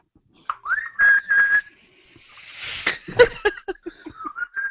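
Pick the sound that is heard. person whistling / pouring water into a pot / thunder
person whistling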